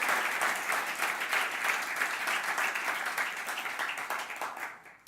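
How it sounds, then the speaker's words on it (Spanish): A church congregation bursts into applause, dense sustained clapping that holds steady for several seconds and then tapers off toward the end, loud and close. "Alguien que le dé un buen aplauso a este Dios todopoderoso."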